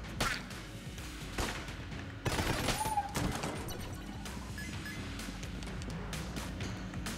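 Gunfire in Enter the Gungeon: a string of sharp shots and bursts crackle over a steady background din, with a denser volley partway through.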